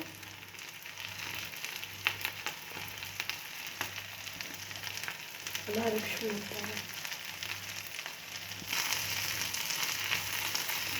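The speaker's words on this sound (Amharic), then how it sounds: "ጥቅል ጎመናችንንም ትንሽ ጠበስ እናደርገዋለን።" Shredded cabbage fries in a pan with softened onions, producing a steady, fairly loud sizzle and crackle with a low hum underneath and a brief stir near the middle.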